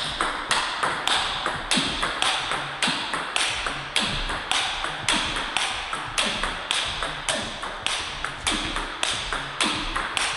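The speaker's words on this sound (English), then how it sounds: "You can really feel the ball dig into the sponge with a loud clicky sound." A table tennis ball strikes a paddle with Butterfly Rozena rubber in a steady rally, each hit a sharp, loud, clicky tap repeating about twice a second with no speech.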